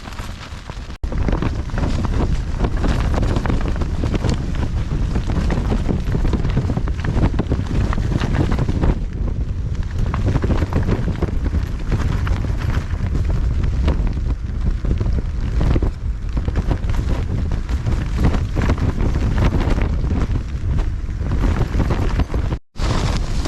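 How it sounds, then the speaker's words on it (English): Strong wind buffeting a Hilleberg Akto tent, a loud continuous roaring rush with flapping fabric and gusts battering the microphone, nearly unbroken for the whole stretch, with no voices. "It's a windy one, people."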